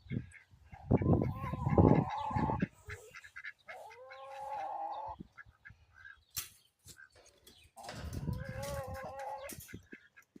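Several hens cluck and squawk loudly in bursts nearby inside a coop with coffee-grounds bedding, with sharp scratching and rustling sounds between the calls.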